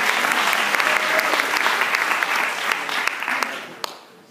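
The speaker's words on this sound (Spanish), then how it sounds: "Otro aplauso para el hermano Salvador." A graduation audience claps in a steady, dense round of applause that stays loud for about three and a half seconds, then tapers off quickly.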